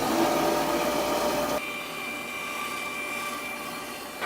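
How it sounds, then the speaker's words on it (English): A bandsaw cuts out a wooden saw sheath, giving a steady loud whine that drops to a quieter, even hum partway through. "I'm going to cut this out on the bandsaw really quickly."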